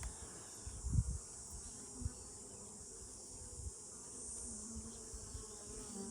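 Bees buzzing around an open hive during a mid-summer inspection, a steady low hum with a few louder thumps and bumps from handling frames, no talk.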